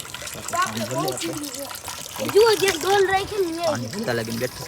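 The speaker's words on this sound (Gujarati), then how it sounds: "ધીમું ધીમું પાણી આવે છે" Water trickles slowly into a large tank in a steady, gentle stream beneath people talking close by, a soft continuous wash that never stops.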